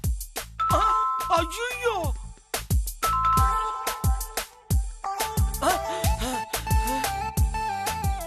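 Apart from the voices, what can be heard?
calling bell (doorbell) being rung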